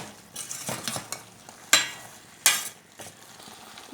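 Spices, cumin and coriander powder being stirred in a pan for a Mangalore-style sukka, with scraping spoon-on-metal strokes, two sharp louder clinks partway through, and a faint sizzle underneath.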